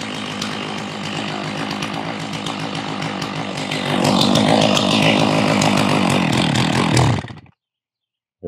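A Stihl MS660 chainsaw runs steadily up close, its engine surging louder midway as it nears running out of gas, then cutting off abruptly to silence before a brief noise at the very end.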